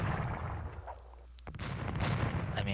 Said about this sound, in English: a bunch of cannons just going off everywhere